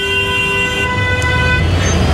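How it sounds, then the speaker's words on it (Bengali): Loud vehicle horns blare in Delhi traffic, several long steady honks overlapping close by over a rumbling road and engine background, with no talking. "প্রচণ্ড হর্ন।"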